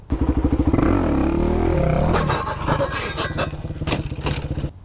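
A Suzuki DRZ dirt bike revs hard during wheelie practice, its engine droning loudly up and down, then giving way to clattering, scraping knocks near the end.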